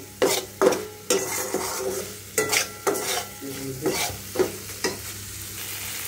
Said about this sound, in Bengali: মশলাটা ভালো করে কষিয়ে নিব, তেল বের হয়ে আসবে মশলার থেকে